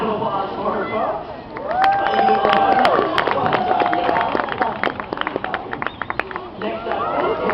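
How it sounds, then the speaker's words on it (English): An audience at a dolphin show in an aquarium arena claps and cheers with loud, sustained crowd noise, alongside a voice over a public address system and scattered shouts and whistles. "A round of applause for her, folks."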